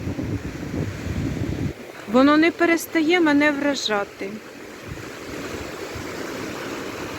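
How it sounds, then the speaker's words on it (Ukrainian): Long, ocean-like waves wash steadily onto a Black Sea beach in Odesa. The surf roars and hisses continuously with wind, and someone speaks briefly over it midway. "подивіться, які довгі хвилі, довгі, як на океані"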